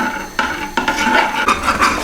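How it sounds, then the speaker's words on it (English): Custard being stirred constantly in a pan on the heat, with steady scraping of a spoon or whisk against the metal and a few sharper knocks; close and fairly loud, with no talk. "Just make sure that with this stage that you stir the custard all the time."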